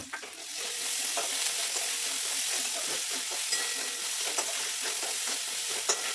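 Oil sizzling loudly in a pan as ginger and green chillies are stirred for Bengali pui shak chorchori, a steady close frying hiss with occasional scrapes of the spatula, no voices.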